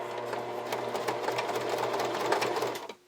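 A sewing machine stitching children's underwear runs in a fast, close, continuous mechanical chatter of rapid needle strokes, then stops abruptly at the end.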